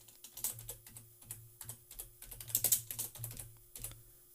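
Close typing on a computer keyboard, a quick irregular run of soft key clicks in short bursts with brief pauses, no voices.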